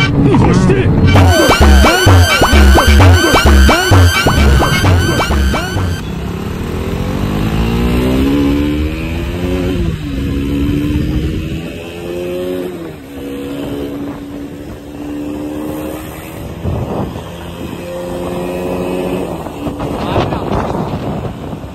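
A KTM Duke 200 motorcycle on a test ride starts with a tonal buzzing passage, then its engine revs repeatedly, rising and falling through the gears, loud and close with heavy wind rumble throughout.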